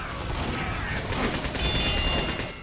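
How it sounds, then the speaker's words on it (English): Rapid syringe gun fire from the Medic in the video game Team Fortress 2, a quick stream of sharp shots over busy battle noise, continuous and fairly loud throughout. "I use my syringe gun to deter pursuers"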